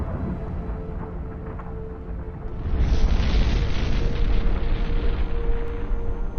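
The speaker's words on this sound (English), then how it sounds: "A massive explosion." A deep, rumbling blast swells after a couple of seconds and keeps roaring loudly, a distant heavy explosion of an armored personnel carrier hitting a mine, with no voices.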